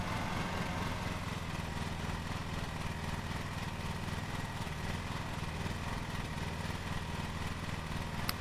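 Articulated ride-on lawn mower engine in Lawn Mowing Simulator, a steady droning idle that holds evenly throughout with no speech.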